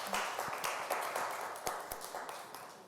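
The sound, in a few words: audience applause for a speaker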